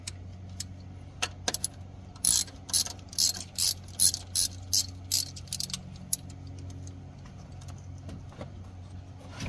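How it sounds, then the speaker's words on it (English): An 8mm socket on a ratchet loosening the intake boot bolts on a 1998 Ford F150 4.2L, a run of close, crisp clicking bursts in quick succession over a low engine-bay hum. "Then we can go ahead and get our 8mm socket to remove our intake boot"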